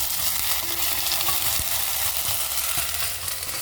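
Steady sizzling of a rice mixture frying with onion as ginger paste is stirred through it, close and continuous with faint scraping of the spoon and no talk.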